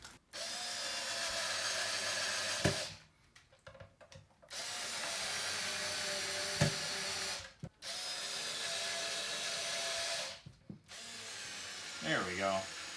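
A power drill drives new Fender neck screws into a guitar body in three long, steady whirring runs separated by brief pauses and small clicks, close and loud.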